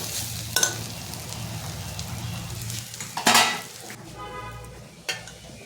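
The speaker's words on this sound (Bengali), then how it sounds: "চালটা কিন্তু ভাজা ভাজা হয়ে গেছে" Rice for basanti pulao fries in a pan, sizzling steadily under repeated scraping and stirring strokes from a spoon, with a few sharp clinks against the metal.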